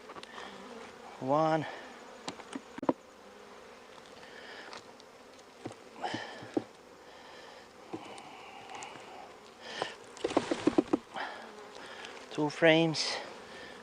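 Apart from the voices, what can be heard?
honey bees buzzing during a hive check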